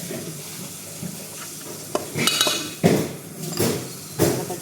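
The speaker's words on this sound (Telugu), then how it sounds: "కలిపేసాం కదా, దీంట్లో వేసుకుంటాం." A spoon stirs a food mixture in a bowl or pan, giving repeated scraping clinks and bursts of mixing noise that grow louder toward the end, with faint sizzling beneath and no talk.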